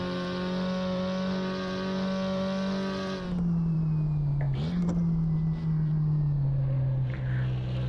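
A Porsche 356 Coupé's rear-mounted engine revving on a track, a loud, close, sustained drone that holds high, then drops to a lower pitch and keeps running with slight rises and falls.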